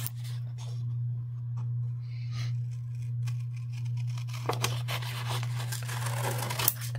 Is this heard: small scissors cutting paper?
yes